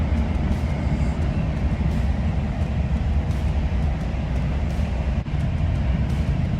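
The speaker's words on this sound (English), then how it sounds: "This train is pretty old" An old RENFE passenger train travelling from Valladolid to Madrid makes a steady low rumble inside the carriage, constant and moderate in level, with faint rattles and clicks on top and no talking.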